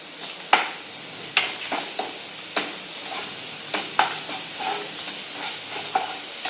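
Coarse garlic and cumin paste is stirred in a hot pan, producing repeated rhythmic spoon scrapes and taps about every half second over a soft, steady sizzle.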